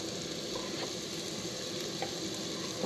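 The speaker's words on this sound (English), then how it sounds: "Fry the onions" Onions fry in a pan for an Italian seafood cioppino, a steady quiet crackling sizzle with faint ticking pops throughout a short stretch.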